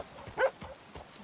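A dog in the Red Dead Redemption 2 video game gives a few short, mid-loud barks spaced unevenly over about a second, with no talk over them.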